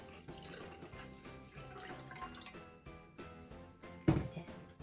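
Dashi broth is poured into a pot with curry for Japanese curry udon soup, a close, trickling liquid splash with soft clinks, ending in a brief louder knock, and no talking.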